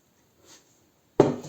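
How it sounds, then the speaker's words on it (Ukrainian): Water splashes into a pot over corn kernels and sugar being prepared for winter, a sudden close, loud pour that starts abruptly after near-silence and keeps going. "Заливаємо водою, аби скривало файно."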